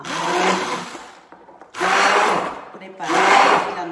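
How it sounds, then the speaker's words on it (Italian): A kitchen blender whirs through pumpkin and leek soup in three loud, close bursts separated by short pauses, with a steady motor roar during each run. "Adesso aggancio immediatamente il mio frullatore"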